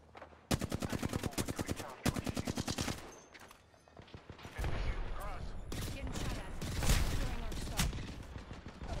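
Rapid bursts of automatic gunfire in the video game Apex Legends, two loud sustained volleys followed by denser overlapping shots and game effects, with a voice talking over the action.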